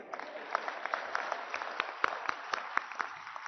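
Audience at a Punjabi speech gathering breaks into applause, a short burst of many hands clapping at moderate distance, crisp and fairly even for a few seconds.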